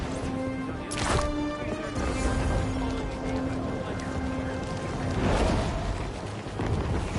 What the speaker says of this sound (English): Fireworks? Probably without a permit.